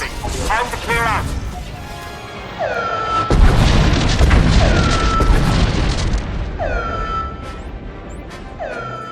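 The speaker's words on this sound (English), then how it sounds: "Bombardment commencing." Orbital bombardment explosions in Star Wars: The Old Republic, a deep heavy boom that rolls out into a long rumbling crash, while talking and chirping electronic tones sit alongside.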